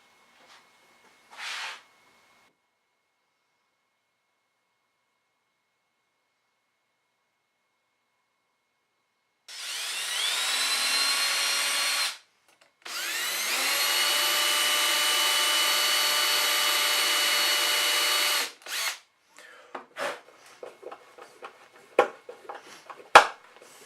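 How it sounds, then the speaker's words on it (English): Belt sander rounding over the bottom edge of a wooden piece joined with quarter round, glue and screws: two sustained, loud whining runs of several seconds each with a brief break between, followed by scattered knocks and clatter. "I rounded over the bottom with a belt sander."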